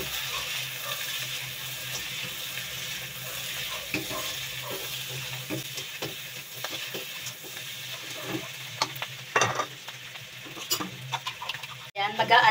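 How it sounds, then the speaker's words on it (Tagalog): Garlic tofu seasoned with chili powder is stirred as it fries in a pan, giving a constant sizzle broken by scraping spatula strokes and clinks, with occasional speech over the cooking. "Haluin lang ulit natin."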